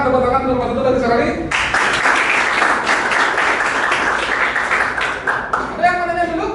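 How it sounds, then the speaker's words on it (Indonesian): Classmates clap for a presenting group during a school practicum session, a dense burst of applause breaking out after a voice and fading as speech returns at the end. "Silakan tepuk tangan kelompok 1 lagi sekali."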